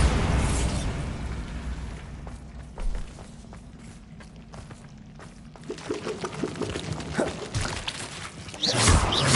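A Bombarda blasting spell in Hogwarts Legacy explodes with a loud burst, followed by scattered debris clatter and rumbling, then another heavy impact near the end.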